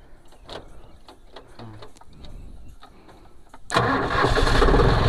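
A paddy harvester engine cranks and catches after a stretch of quiet clicks and ticks, then settles into a loud, steady rumble for the final seconds.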